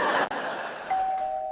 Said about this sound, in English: Then the doorbell rings.